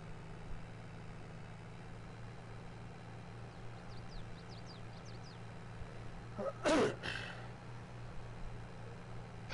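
A single sharp sneeze rises partway through, loud and brief, over the steady low rumble of an idling tractor engine outdoors.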